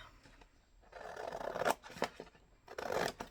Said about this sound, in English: Cut that off.